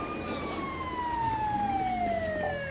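Ambulance siren in a video game, a steady wailing tone sweeping slowly downward with a second harmonic line, loud and continuous over a dense background bed.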